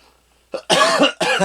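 A few harsh coughs close to the mic, a short one followed by a longer rough burst and another brief cough, with no talking.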